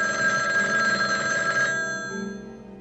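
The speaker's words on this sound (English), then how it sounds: "all it will take to trigger them is a simple phone call" A telephone rings with a bright, continuous electronic trill, loud and close, stopping abruptly partway through.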